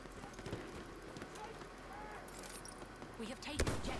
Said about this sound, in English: Please let me get on that horse.